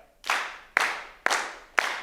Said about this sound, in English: We're going to make a clapping sound, but we try to be super consistent with the sound of our claps